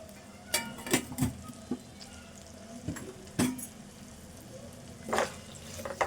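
Cluster beans fry in a pan with turmeric and salt, making a quiet, steady crackle with scattered sharp pops and faint stirring, and no talk.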